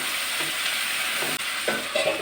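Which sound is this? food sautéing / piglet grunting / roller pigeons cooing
food sautéing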